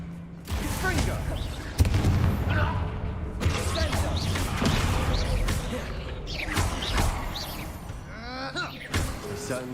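Confringo fire-blast spells bursting in combat in the Hogwarts Legacy game, dense crackling explosions and impacts layered over continuous battle noise, with voices shouting and talking throughout.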